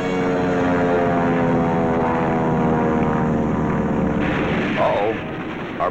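Droning propeller engines of a big four-motored WWII Kawanishi seaplane, a loud steady harmonic hum with a faint shifting tone near the end.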